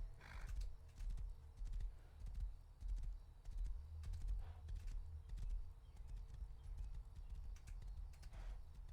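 Horses in a video game clop along with rhythmic hoofbeats while a neigh or whinny rises near the start and again near the end, fairly faint overall, with light keyboard tapping underneath.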